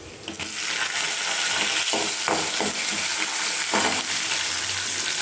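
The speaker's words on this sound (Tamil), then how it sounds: "கடுகு, உளுந்தம்பருப்பு போட்டு நல்லா எண்ணெய் காஞ்சதுக்கப்புறம் பொரிய விடுவோம்." Mustard seeds and urad dal sputter and sizzle in hot oil for a chutney, a steady dense crackle with a few sharper pops and stirring scrapes, close and continuous with no talking.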